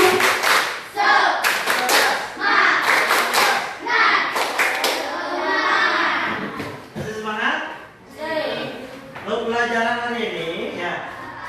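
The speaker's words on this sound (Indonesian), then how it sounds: "tepuk semangat dulu. Tepuk semangat." Fifth-grade primary school pupils in an Islamic religious education class clap together in a rhythmic spirit clap, bursts of sharp group claps in patterned runs, loud and close, mixed with voices throughout.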